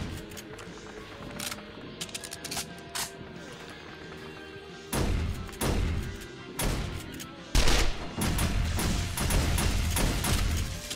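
Shotgun turret fire during a horde night in 7 Days to Die: loud, booming shots and bursts come in uneven clusters, heavier in the second half, over a continuous game soundscape.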